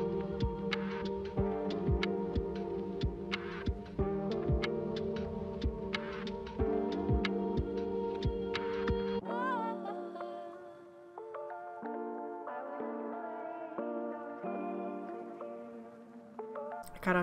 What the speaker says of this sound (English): I set up my big Roland printer to get going for the day